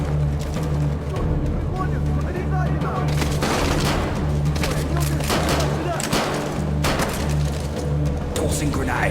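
Frag grenade blasts and gunfire in Modern Warfare 3 multiplayer: several loud, broad bursts of gunfire and explosions land at irregular intervals over a constant low engine-like drone, with voices faintly mixed underneath.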